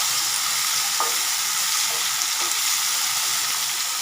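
Ivy gourd (kovakkai) curry sizzles steadily as it sautés in a pan, a loud continuous hiss with occasional soft scrapes of stirring, close up and without talk.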